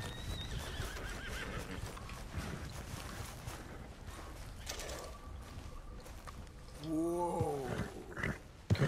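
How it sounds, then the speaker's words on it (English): A horse in Red Dead Redemption 2 gives one clear, close whinny near the end, after hoofbeats and game ambience that run through the earlier part. "Qué caballo más guapo, ¿no?"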